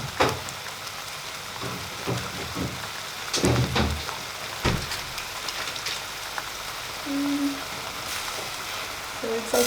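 Spinach with butter sizzling in a hot pan, a steady crackling fry with scattered louder pops and spits throughout, close and fairly quiet, no voices.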